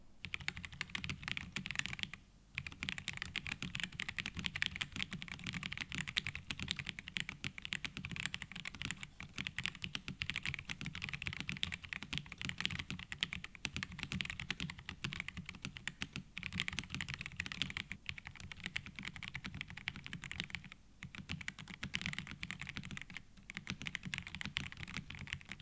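Continuous fast typing on a Pressplay Apollo 61 Lite 60% mechanical keyboard, a dense, clacky stream of close keystrokes with only a couple of brief pauses.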